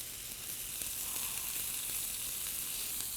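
Thin steak tips sizzle in a hot pan, a dense, even frying hiss that holds steady and close throughout with no voices.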